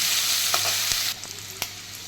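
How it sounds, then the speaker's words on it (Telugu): Sliced green chillies and a sprig of curry leaves fry in oil for an Andhra prawn curry, a loud close hiss of sizzling with a few light stirring scrapes, easing off slightly partway. "సన్నగా కట్ చేసి పెట్టుకున్న రెండు చిల్లీస్ ఒక రెమ్మ కరివేపాకు వేసి అదంతా బాగా వేయించుకోవాలి"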